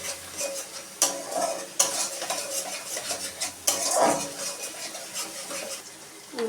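Spices and paneer stirred in a metal pan for a Bengali paneer curry, a spoon repeatedly scraping and clinking against the pan over a light sizzle, with a few sharper knocks standing out near and clear.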